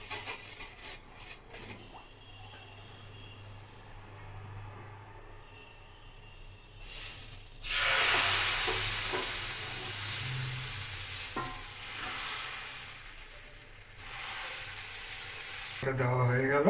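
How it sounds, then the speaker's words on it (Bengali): Patishapta batter hits an oiled pan and sets off a bright, loud sizzle that swells and then holds steadily, after quieter kitchen clatter and stirring sounds. "এবার আমি তেলটাকে ব্রাশ করে নিচ্ছি ভালো করে। এবার আমি গোলাটা দেব।"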